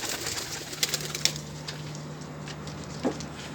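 Homing pigeons cooing softly nearby, with a low steady hum underneath and a few sharp wooden knocks.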